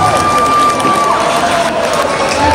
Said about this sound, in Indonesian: Beri tepuk tangan untuk Liquid